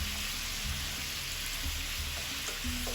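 Kaleji (liver) fries in a pan with a soft, continuous sizzle and faint crackle, quiet and close, with no talking.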